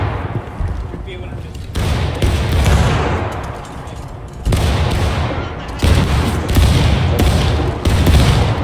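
Musket gunfire in the video game War of Rights: repeated loud, sharp bursts and booming volleys in irregular clusters, with voices talking over the shooting.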